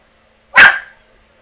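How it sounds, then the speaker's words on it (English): A single loud, close bark from a pet dog, one sharp burst that fades quickly into silence. "My dog is joining in on the events here, guys."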